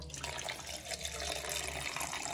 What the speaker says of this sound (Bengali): 150 গ্রাম গোবিন্দভোগ চাল নিয়ে নিয়েছে। এটাকে একটু ধুয়ে নেবে